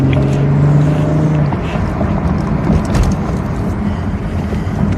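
Road traffic near a hotel parking area during an on-scene police stop in Brazoria County, Texas: a steady, fairly loud broadband rumble of passing vehicles, with a low engine-like hum in the first second and a half and no talk.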